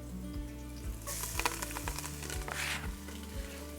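Chopped onion and garlic hit hot oil in a pan, setting off a bright, steady sizzle with scattered crackles and pops, close and alone with no talking.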